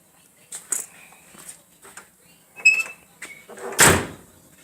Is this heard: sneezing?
no